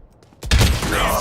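A missile launch and explosion in the Valorant video game: quiet faint sounds, then a sudden loud blast that rolls on as a sustained rumble.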